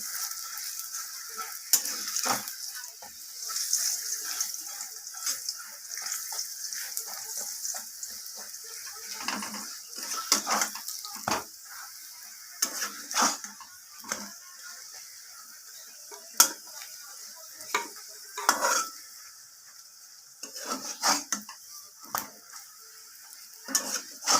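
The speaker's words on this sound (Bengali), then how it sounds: "এরপর আমি আবারও তেল দিয়ে পরোটাটাকে দু পিঠ ভাজা করে নেব।" Steady, light sizzling of an aloo paratha frying in oil, with intermittent scrapes and clatters of a utensil against the pan.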